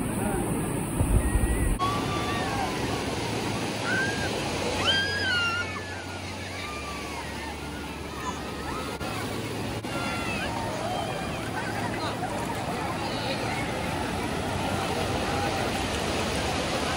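Sea waves washing onto the shore at Marine Drive, a continuous broad surf rumble with scattered bird chirps over it and a low hum early on.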